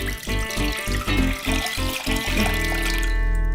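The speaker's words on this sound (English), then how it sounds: "Drain the water into the saucepan." Water from a drinking coconut cut open at the sides drains into a saucepan. It is a close, steady gurgling pour with uneven glugs that thins to a trickle at the end, with no talking.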